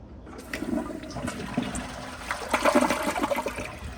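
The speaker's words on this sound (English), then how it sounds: "Here's a flush." A Glacier Bay elongated dual-flush toilet does a half flush, a rushing gurgle of water that swells after a brief pause and churns for a few seconds, close and alone.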